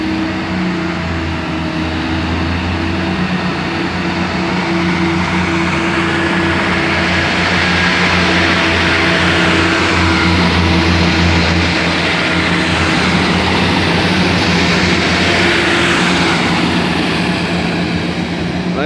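A Class 158 diesel multiple unit, 158950, pulls away from Fratton station with a steady, loud engine drone and low throbbing hum that holds throughout, swelling slightly in the middle.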